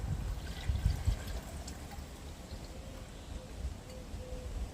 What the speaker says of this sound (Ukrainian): Заливаємо простою водою.